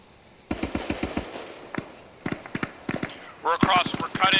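Gunfire at an airsoft field training exercise, rapid bursts of sharp cracks in uneven strings, fairly close, ending with louder shots and a voice over radio-like noise near the close.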